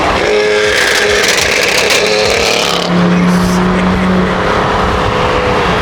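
A loud, roaring car engine revving hard and continuously, with a high-pitched whine rising over the throaty rumble.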